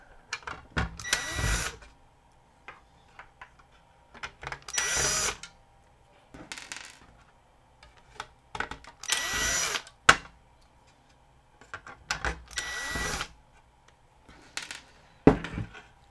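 A power screwdriver backs out four screws from the power supply of a Sylvania DVD-VCR combo, giving four separate close, loud whirring bursts with quiet pauses and small clicks of handling in between.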